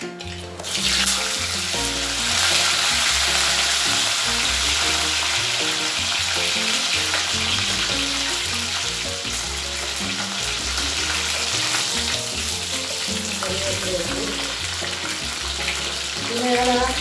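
Fenugreek seeds and curry leaves hit hot oil, bursting into a loud, sustained sizzle and spatter that holds steady for the whole stretch, with the seeds crackling and no voices.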